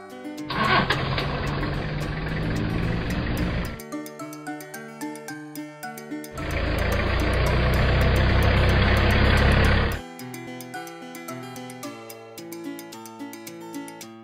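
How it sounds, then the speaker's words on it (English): A Disney van engine runs loud and close in two sustained stretches of a few seconds each, separated by a pause, with background music continuing throughout. "Green Disney van."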